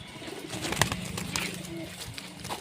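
A pigeon stands nearby making soft cooing sounds over a quiet background, with a few brief low murmurs and light rustles.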